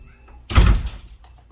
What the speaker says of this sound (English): Sorry about the slamming of the doors.